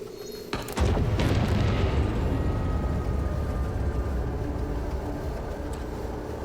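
A charge detonated with a clacker in the game MOLE goes off in one loud, close boom that settles into a long rumbling roar fading slowly over several seconds.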